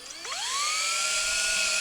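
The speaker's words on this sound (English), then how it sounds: "you're going to take your drill and you're going to drill one hole through the plastic PVC" A power drill spins up with a rising whine and settles into a steady high-pitched drone while boring a hole through plastic PVC on a solar sign frame. The sound is close and continuous and holds for nearly two seconds.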